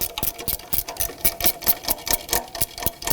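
A hand ratchet working a bolt loose on the engine torque strut mount of a 2012-2017 Toyota Camry 2.5L, a quick, close series of regular clicks repeating steadily throughout.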